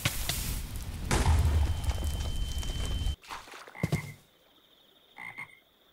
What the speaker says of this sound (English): I hear a frog creaking, and I'm just gonna run.